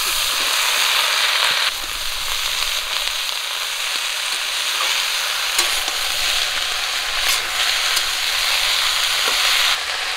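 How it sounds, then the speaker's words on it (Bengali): Washed pumpkin stems and diced potatoes frying in oil with onion and green chilli, a continuous close sizzle with intermittent spatula stirs and scrapes against the pan, no talking. "ধুয়ে রাখা কুমড়ো ডাঁটা আর আলু দিয়ে দিচ্ছি"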